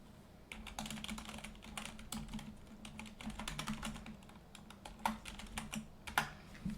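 Rapid, steady typing on a computer keyboard during a cozy life-sim gaming session, with dense clicking keystrokes close up over a low background hum and no talking.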